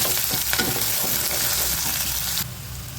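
Small onions sautéing in a pan for parotta salna, a loud continuous sizzle with stirring scrapes, dropping to a quieter hiss near the end.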